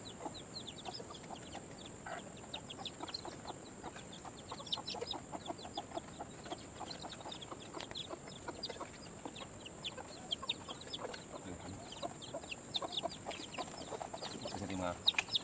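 A Rhode Island Red hen clucks in soft, scattered bursts over a quiet farmyard background, faint and low in level throughout.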